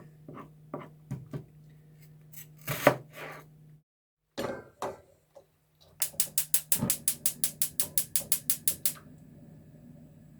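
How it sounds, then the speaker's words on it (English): Knife chopping an onion into little pieces on a board, starting with scattered cuts and scrapes, then a fast, steady run of about a dozen sharp, close chops. "Chop it up into little pieces."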